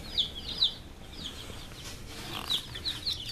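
High, faint chirps of day-old chicks cheep in short bursts, with light scratching and tapping sounds underneath as they peck at each other, quiet and close.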